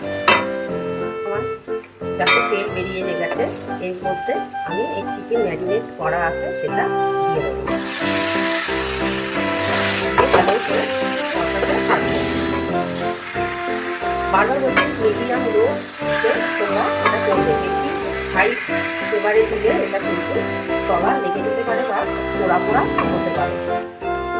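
Chicken for kasuri methi chicken sautés with Kashmiri chili powder in a pan over medium heat, giving a loud, continuous sizzle with stirring scrapes and clinks, while a voice talks over it.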